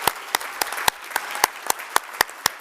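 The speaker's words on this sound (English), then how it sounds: "who deserve their own round of applause, please." Distinct, regular hand claps ring out over a quieter bed of scattered applause at a conference event, roughly four sharp claps per second, fairly faint overall.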